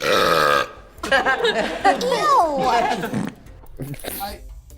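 A long, drawn-out comedic burp from a scene in the movie Fred 3, loud and close with a wobbling, gurgling pitch, followed by voices talking over the tail end.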